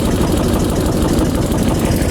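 A boat or vehicle engine idles steadily and loudly up close, a continuous low rumble with slight unevenness as the throttle is eased, with no voices over it.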